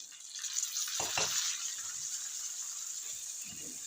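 Round-sliced tomatoes tipped into a hot pan with cumin, giving a steady high sizzle with a few soft thuds and scrapes as they land, close and fairly quiet.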